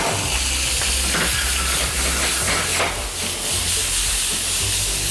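Very hot oil sizzles and hisses in a hot pan before garlic goes in, a steady close frying crackle running the whole time with no talk.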